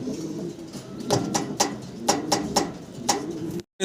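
A pair of pigeons cooing at a farm, a series of about seven soft rhythmic coos spaced under a second apart, close and clear over light background noise.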